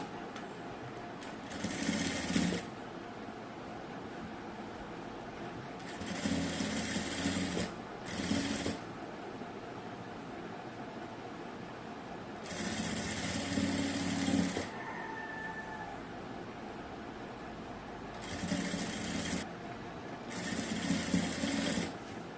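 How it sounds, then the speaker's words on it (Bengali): Sewing machine running a pressing stitch along joined lace on fabric for a neckline design, in several bursts of a few seconds each, with quiet pauses between and no talk. "এবার আমি এটাকে এভাবে করে উল্টিয়ে একটা চাপ সেলাই দিয়ে নেব।"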